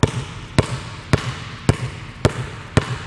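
A youth basketball dribbling drill: a ball bounces on the floor six times at an even pace of about two bounces per second, each thump sharp and close, with faint background noise between bounces.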